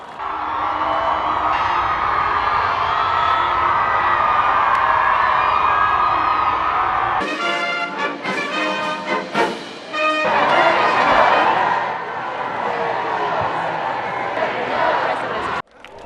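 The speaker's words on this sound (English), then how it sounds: "a vast and cheering crowd that spilled down the historic National Mall in January" A vast crowd cheers on the National Mall at a president's second inauguration in January, a dense, roaring wash of voices with whoops and shouts that swells midway. Speech-like voices carry over the cheering.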